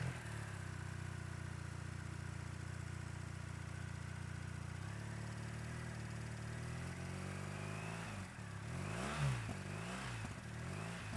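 A BMW 1300 GS motorcycle engine idling steadily with a low hum, then blipped through several quick revs near the end; no one talks over it.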